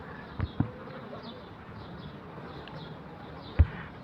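Honeybees swarm over a wooden frame in a hive, giving a faint, steady buzzing drone with a few soft knocks near the start and one near the end.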